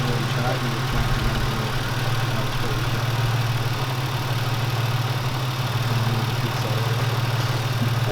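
A Subaru WRX that sat unused for 10 months idles steadily after starting, a low continuous engine hum with a constant drone and no breaks, moderately loud and close.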